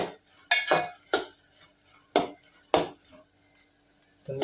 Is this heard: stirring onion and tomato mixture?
yes